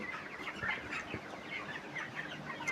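Poultry farm chickens cluck and chatter continuously in hot weather, several birds nearby, with soft chirps mixed in.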